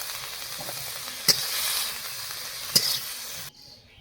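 Pumpkin greens frying in a pan give a steady, soft sizzle with two brief sharp clinks of a utensil, before the sound cuts abruptly to near silence.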